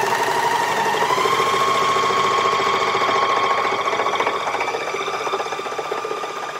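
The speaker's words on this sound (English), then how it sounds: "a serger will sew a lot faster than a regular sewing machine" An Elna 664 Pro serger, with four threads and a cutting knife, runs at high speed, giving a steady, fast mechanical whir and rattle that continues evenly throughout.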